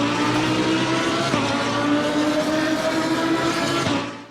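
Race car in the video game Assetto Corsa Competizione: a loud, close engine roar holds a high rev while tires squeal and the car passes, fading out at the end.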